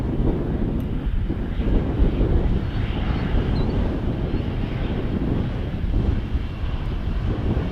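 KLM Airbus A330 airliner turning to line up with runway 02 at Edmonton International, a steady distant engine roar mixed with wind buffeting the microphone.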